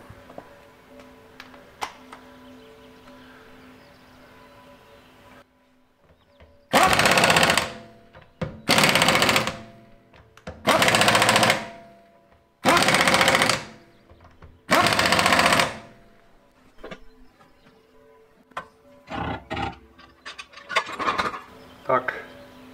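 A HAZET 9012EL-SPC pneumatic impact wrench tightens bolts in five loud, close bursts of roughly a second each, spaced evenly, followed by a few shorter, lighter rattles.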